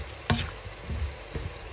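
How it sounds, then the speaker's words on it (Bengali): Onions and dried fish sauté together in a pan, a short burst of close sizzling broken by a few quick stirring knocks. "পেঁয়াজ আর শুটকি একসাথে আমি কষাবো"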